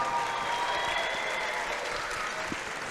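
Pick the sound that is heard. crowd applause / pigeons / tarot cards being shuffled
crowd applause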